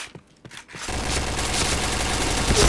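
Dense rapid gunfire in a shooting video game, a few scattered shots at first, then a loud continuous burst of overlapping automatic fire for most of the clip.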